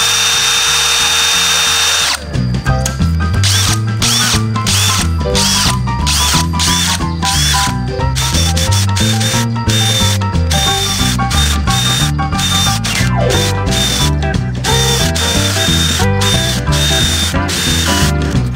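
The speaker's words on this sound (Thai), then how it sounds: "เราก็ใช้ดอกสบานเจาะไม้นะครับคว้านไปเลยก็ได้" A power drill with a wood hole-saw bit whirs in repeated short bursts, starting and stopping in a choppy rhythm, loud and close, boring into a wooden door frame.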